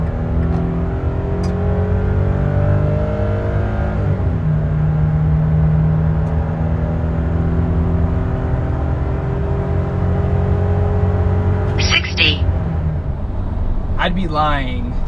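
A 2023 Nissan Frontier Pro-4X accelerates from 0 to 60 while towing a trailer on the interstate, its engine droning loud and close as it climbs through several gear changes, with a brief clatter and chirps near the end.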